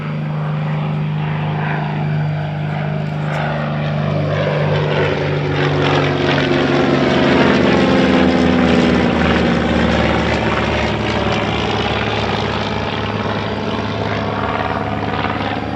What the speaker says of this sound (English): Also been presented a Master Pilot commemorate Lee Russell with a missing man formation